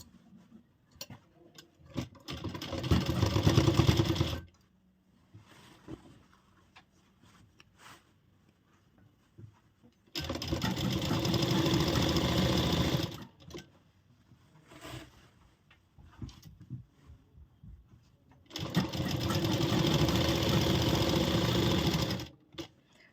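A sewing machine stitches joined fabric pieces for an angrakha-pattern umbrella frock, three separate bursts of fast, buzzing motor-driven stitching, each a few seconds long, with quiet handling sounds between.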